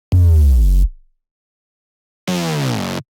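A liquid drum and bass bass fill with the autopan switched off sounds as two separate deep synth bass tones. The first is full and heavy, and after a pause a thinner second note holds briefly. No one speaks over either.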